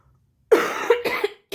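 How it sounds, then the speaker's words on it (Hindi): Cough from one person, a close burst of three quick hacks followed by a short fourth, alone without talk. "खांसी हो गया"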